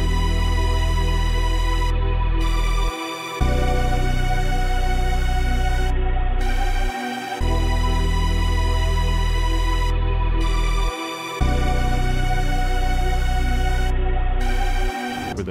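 A punchy synth lead made in FL Studio, chopped into rhythmic stabs just before each next note over a deep bassline and pad, repeating a bouncy loop with brief gaps between phrases.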